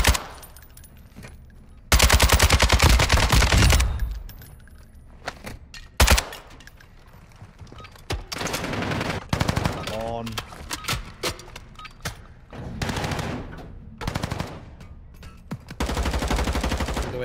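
Video game gunfire inside Building 21: repeated loud bursts of automatic fire, close and sharp, broken by quieter gaps while players talk to each other over the shooting.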